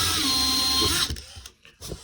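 A drill boring a small pilot hole in plywood, a steady whirring run for about a second that cuts off, followed by quieter handling sounds.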